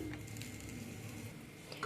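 A paratha sizzles quietly in a kadai on a gas stove, a soft steady frying hiss with a faint clink near the end and no talking.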